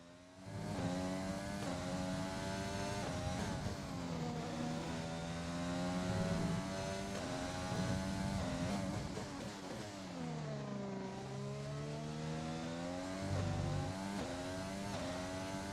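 Race cars in a racing video game drone steadily through qualifying outlaps, engine notes rising and falling with gear changes, loud and continuous with a dip around the middle.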